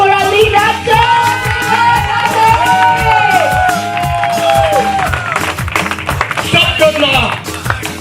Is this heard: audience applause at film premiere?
yes